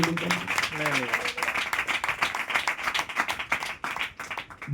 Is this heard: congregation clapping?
yes